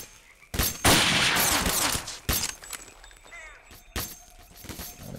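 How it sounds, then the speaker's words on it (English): Gunfire in the video game STALKER: Call of Pripyat, with several sharp, loud shots and bursts spaced across the stretch over a busy background of game noise. "The sweet, sweet sound of bullets."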